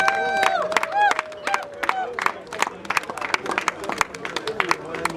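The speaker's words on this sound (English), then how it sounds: "Can you please give members of Ibadan Recreation Club a rousing round of applause?" Members of the Ibadan Recreation Club, at an invitation sporting contest, give a round of applause. Scattered claps ring out over crowd chatter and cheering, with an announcer's voice running through it.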